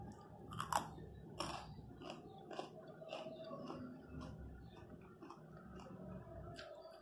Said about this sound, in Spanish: Tiempo para masticar.